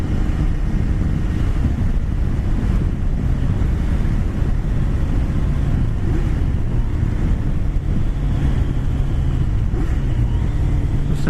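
A motorcycle engine drones steadily during a ride along country back roads, its continuous rumble mixed with heavy wind buffeting that stays loud and unbroken throughout.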